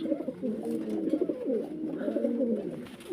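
Lahori pigeons coo close by in steady, overlapping low rolling calls that continue throughout the short stretch, with no talking.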